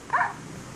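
A single short bark or yelp from a dog in Minecraft Pocket Edition, brief and fairly clear over a faint background hiss.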